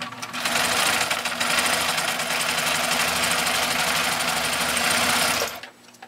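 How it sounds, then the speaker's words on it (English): A Husqvarna Viking Model 8 sewing machine stitches through thick layers of saddle leather for a gun holster. Its loud, rapid mechanical chatter runs steadily for about five seconds, then stops abruptly. "let me demonstrate just how beautifully this machine sews saddle-like leather"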